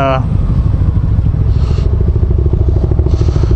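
A Kawasaki Voyager motorcycle engine idles steadily up close, a smooth low rumble with a faint rhythmic pulse, preceded by a brief higher whine at the start.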